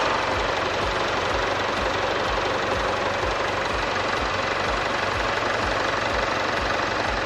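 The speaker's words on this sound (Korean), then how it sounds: "엔진 소리 일정하고 좋습니다" A Jaguar XE 20d diesel engine idles steadily with an even, low rhythmic chug and a broad mechanical hum, no voices.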